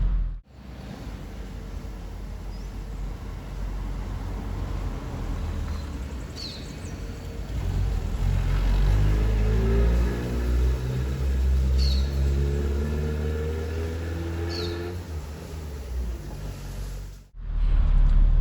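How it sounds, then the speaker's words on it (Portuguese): Street resurfacing and gutter work by the city, heard as a steady, loud low rumble of heavy road machinery with engine drone swelling midway, continuing without speech before cutting off near the end. "lá a prefeitura está fazendo um recapeamento, eles estão ajustando as sarjetas, por isso que deu um certo barulho ali"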